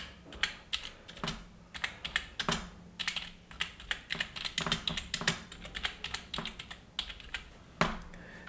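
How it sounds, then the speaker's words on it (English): Steady typing on a wired keyboard connected to a phone, rapid clicky keystrokes close up in an uneven rhythm, with no voices. "so as you can see, as I'm typing"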